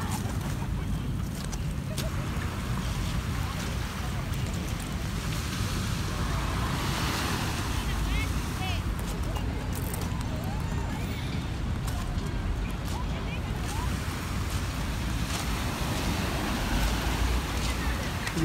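Manila Bay water washing against the shore, a steady low rushing surf with wind noise, moderately loud and continuous, with people talking faintly now and then over the water.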